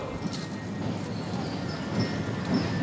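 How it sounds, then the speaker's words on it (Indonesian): Hooves of horses in a ceremonial procession clip-clop into the gate of Istana Merdeka, escorting the duplicate red-and-white flag from Monas. Faint, rapid hoofbeats sit under a dense crowd murmur and outdoor noise. "sayup-sayup kita dengar derap langkah kuda memasuki gerbang Istana Merdeka"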